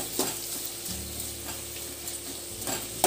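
Onions frying in a pan with salt while being stirred, a steady close sizzle with scraping strokes and a few clinks of the utensil against the pan, no talking.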